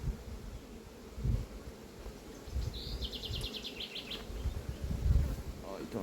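A faint, steady honey bee buzz hangs low around a hive outdoors during a rapeseed honey harvest, with brief louder drones passing close by.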